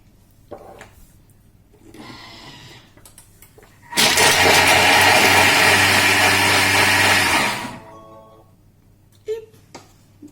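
A loud, steady whirring from a Thermomix blending a kale smoothie roars for a few seconds, cutting off abruptly, with quieter kitchen clatter before and after.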